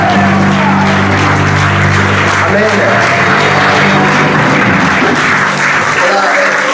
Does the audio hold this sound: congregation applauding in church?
yes